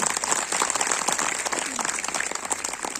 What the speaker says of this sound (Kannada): ಇನ್ನೊಂದು ಸಲ ಜೋರಾದ ಚಪ್ಪಾಳೆಯನ್ನ ನೀವೆಲ್ಲ ಬಾರಿಸ್ಬೇಕು.